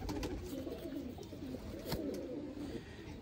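Pigeons coo softly and continuously nearby, a faint, low murmur of repeated calls with no voices.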